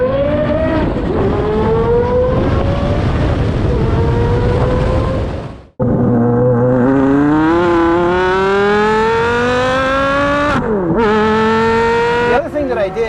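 A Porsche with a GMG titanium exhaust revs hard with a loud, rising howl that cuts off abruptly partway through, then climbs again through successive pulls. The sharp, ringing exhaust tone dominates throughout.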